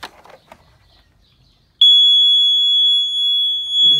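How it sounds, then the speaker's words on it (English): Husqvarna Automower robotic lawnmower alarm running on a dead battery: after a few quiet seconds of faint handling noise, a loud, piercing, steady high-pitched electronic tone starts abruptly and sounds continuously until a brief low rustle near the end. "alarm still works on a dead battery"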